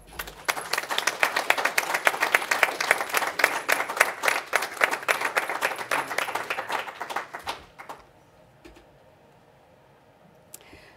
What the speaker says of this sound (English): give them all a round of applause in thanks and in congratulations